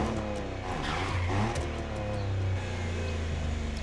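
A Ford Bronco drives in The Crew Motorfest racing game, its engine droning steadily with a brief rise in revs partway through, heard close and alone without speech.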